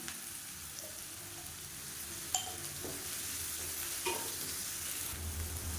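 Onions sautéing in a pan with salt for a mushroom tomato curry give a soft, steady sizzle, with occasional light clicks from stirring, close and alone without speech.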